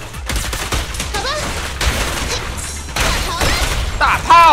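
Cannon fire in the video game Zenless Zone Zero sounds as a rapid, continuous barrage of loud blasts and crackling impacts, with a bright whooshing effect toward the end.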